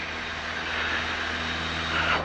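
Airplane engine at takeoff power, a steady loud roar with a constant drone and a rising high whine toward the end, heard close with no voices.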